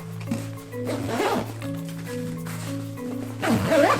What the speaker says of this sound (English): Will it zip?